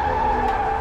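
A car tire skids on a city street with a loud, sustained squeal, one steady high-pitched screech lasting under a second, close and alone.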